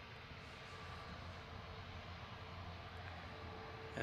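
An aircraft taxiing at Manchester Airport, a steady distant engine rumble and whine heard from outside, constant and without voices.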